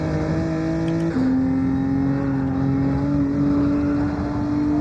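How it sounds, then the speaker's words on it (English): A race car engine in a video game holds a steady drone, then drops sharply in pitch once as it shifts down a gear, continuing at a lower tone. "when you listen to the gear changes when I go down through them"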